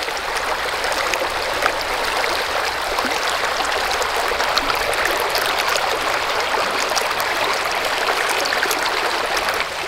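A small burn flows across a beach at Kirkcaldy in Scotland, a steady close rush and trickle of shallow water running continuously without a break or any voices.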